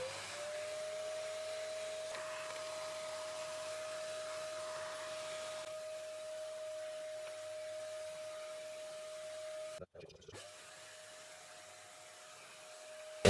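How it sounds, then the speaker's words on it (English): Steady vacuum cleaner whine running close and loud while it sucks dust out of a Sega Dreamcast HKT-7430 steering wheel under repair, with a brief muffled dip near the end as the nozzle is blocked, then resuming. "so let's just vac this out."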